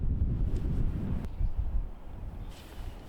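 Wind buffeting the microphone on a cold, windy golf course, a low continuous rumble that eases slightly toward the end.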